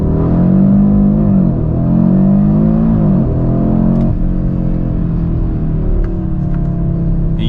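A 2022 Audi RS3 launches hard under launch control, its engine roaring loud and close with rising, shifting harmonics as it accelerates, a brief dip around each gear change, and no voices over the sustained drive.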